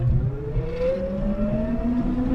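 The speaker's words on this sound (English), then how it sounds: "I'm gonna put the throttle in the full position right now." A Lectric XP Lite folding electric bike pulls away at full throttle, its motor whine climbing steadily in pitch over a continuous rumble of road and wind noise, with no talking.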